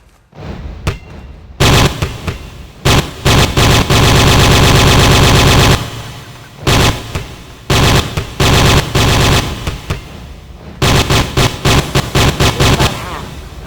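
Rapid automatic AK rifle fire in the video game Trespasser, loud close bursts of varying length with brief pauses, including a long sustained stream of shots and several short clusters.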